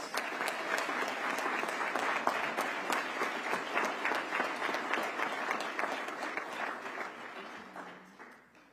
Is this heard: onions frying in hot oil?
no